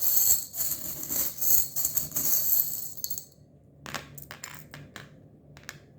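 Small tarot charms shaken together and pulled out, a loud jangling rattle of metal trinkets for about three seconds, then a few sparse clicks and taps as they settle.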